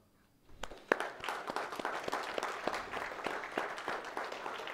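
Applause from a church congregation during a Sunday service, beginning after a brief quiet moment. It builds quickly into a moderate, sustained round of clapping from many people.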